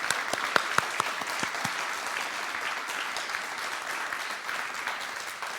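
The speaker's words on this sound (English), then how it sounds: "Let's give them another round of applause" Audience applause at the 2019 launch of an online orchestra, steady and sustained clapping from a crowd with a few sharper close claps at the start, no talking over it.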